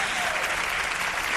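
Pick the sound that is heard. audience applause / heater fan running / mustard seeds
audience applause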